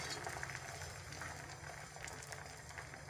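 Egg frying in a pan, a faint, steady crackling sizzle throughout with soft intermittent pops.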